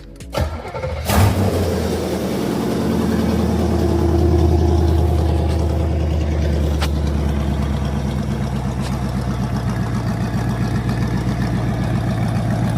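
A C4 Corvette V8 cranks and fires up, then settles into a loud, lumpy idle through a DIY exhaust without mufflers, rumbling steadily and close by.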